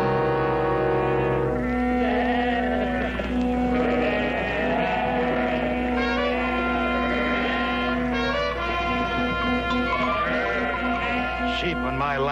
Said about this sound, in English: Sheep on my land.